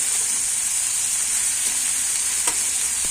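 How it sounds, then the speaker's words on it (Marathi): Green chilies and finely cut potatoes frying in oil for sabudana khichadi, a steady bright sizzle with soft stirring scrapes, close and continuous without talk. "आपण मिरची फ्राय झाल्यानंतर त्यामध्ये आपण हे बारीक चिरलेले आलू टाकणार आहोत"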